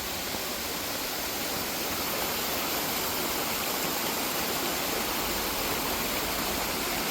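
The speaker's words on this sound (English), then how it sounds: "Look at this waterfall" Waterfall on the Appalachian Trail near the Pigeon River, out of the Smokies, giving a loud, steady, broadband rush of falling water with no other sounds.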